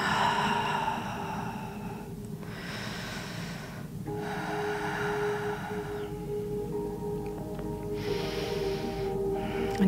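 Slow, deep breaths during a gentle yoga stretch, two or three long audible inhales and exhales close to the microphone over a faint steady background hum.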